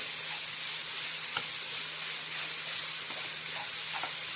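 Young jackfruit thoran is stirred in a hot pan under a steady, dense sizzle and steamy hiss, with a few faint scraping clicks from the spoon scattered through it. No one speaks.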